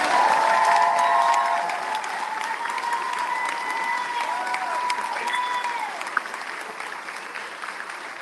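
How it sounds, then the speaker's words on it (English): An audience at a political town hall in Antioch applauds steadily, a dense wash of clapping that holds loud at first and then settles to a slightly lower level, with faint murmurs mixed in. "Thank you for that audio applause."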